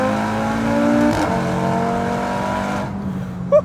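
A 600HP Audi RS3 with a stock turbo pulls hard under acceleration, its engine note rising steadily and loud for about three seconds before cutting off abruptly, with a short sharp sound at the very end.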